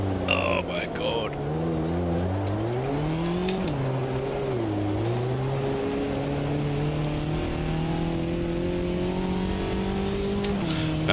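Whining electric motor of an RC car racing across the start-finish line in a wet RCV League round at Snetterton, the pitch climbing and dipping as it passes close and loud, with a commentator talking over it.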